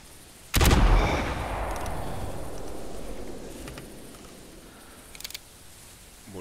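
A single loud hunting rifle shot cracks out during an evening hunt, then rolls away in a long fading echo across open ground; a faint click or rustle follows later.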